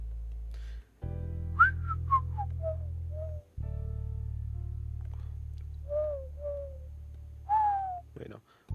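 A person whistles to imitate a bird call, giving a series of short sliding and falling notes, close and clear, with a few pauses between phrases over a steady low background hum.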